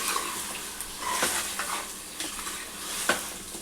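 One kilogram of chicken stirred and fried in a pot for Telangana-style bagara chicken curry, a close sizzle broken by scattered spoon clinks and scrapes against the metal, with no voices.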